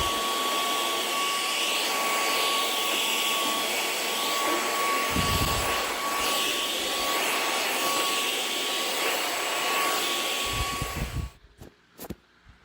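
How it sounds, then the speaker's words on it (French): Small electric fan running steadily indoors during a heatwave, a quiet constant whir with a faint steady tone, briefly interrupted by a couple of low thumps, then cut off near the end. "j'ai réquisitionné son petit ventilateur parce qu'il fait moins de bruit"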